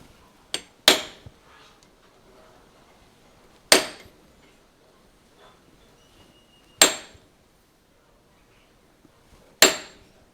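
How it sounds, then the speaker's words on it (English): Sharp metallic taps from a small hammer striking the teeth of a hand saw: a quick double tap, then three single strikes spaced a few seconds apart, each ringing briefly. "Just a small hammer, don't need to bash the shit out of it"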